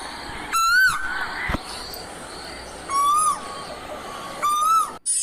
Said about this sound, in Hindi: कुकू की आवाज सुने।